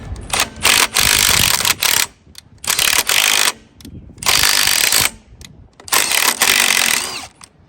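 A hand ratchet clicks rapidly in four sustained bursts with short pauses between them, turning a bolt back in on a Dodge 360 engine. The mechanical clatter is close and loud, with no talking.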